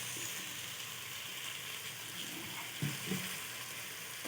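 Soy sauce sizzles in a hot frying pan as a soft, steady hiss, with a couple of brief stirring knocks near the end.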